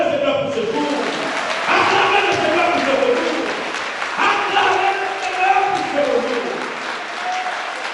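A church congregation claps and applauds at a Pentecost service in an evangelical church near Noisy-le-Sec, steady and reverberant, with a voice speaking over the clapping.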